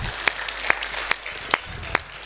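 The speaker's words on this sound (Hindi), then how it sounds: "आप तालियों से इस पर मोहर लगा दीजिए" Audience at a Hindi patriotic poetry gathering (kavi sammelan) at the Banas Utsav clapping in a steady rhythm, with sharp claps at regular half-second intervals over a dense crowd murmur.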